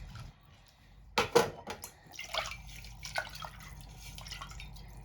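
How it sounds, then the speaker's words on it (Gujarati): Water is poured into a pressure cooker in a home kitchen for a chickpea and potato curry: a sudden splash, then lighter intermittent splashing and trickling, close by. "એ જ કુકરમાં એ પાણી મૂકી દઈશ"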